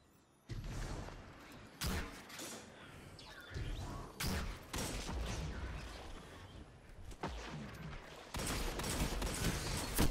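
Hand cannon fire in a competitive first-person shooter video game comes as a series of loud, heavy booming shots at irregular intervals, over constant game noise and movement.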